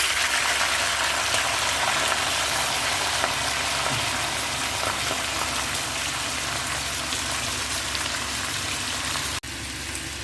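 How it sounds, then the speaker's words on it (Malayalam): Pressure-cooked chicken pieces sizzle steadily in hot oil, a dense, continuous crackle with no talk that holds at a constant level and drops briefly near the end. "ഇനി ഈ ചിക്കൻ നമുക്ക് ഈ എണ്ണയിലേക്ക് ഇട്ട് കൊടുക്കാം."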